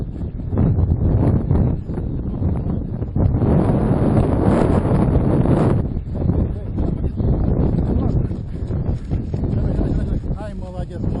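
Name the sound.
wind blowing outdoors during duck hunt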